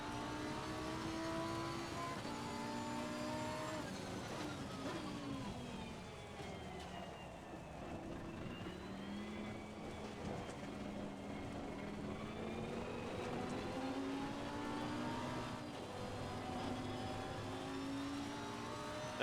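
A race car engine in a racing game revs and accelerates on a wet track, a steady loud drone whose pitch climbs and dips with gear changes, continuous throughout.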